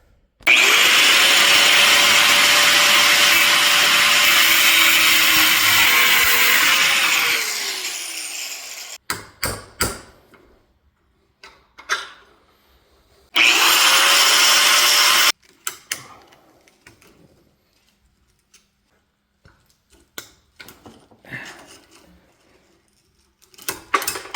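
A loud power tool grinds and whines through a cut on a Nissan Frontier rear wheel bearing for several seconds, then winds down; scattered clanks follow, another short burst of cutting, then more knocking.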